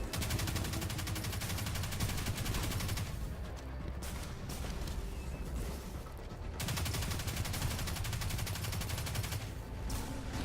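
An auto rifle fires in Destiny 2 during the Inverted Spire strike on PC. Sustained rapid bursts of gunfire come in long strings with a short lull midway, loud and continuous.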